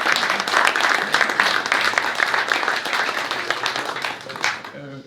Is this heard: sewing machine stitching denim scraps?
no